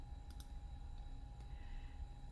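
A computer mouse clicks twice in quick succession near the start, followed by one faint, isolated click later against a very quiet background.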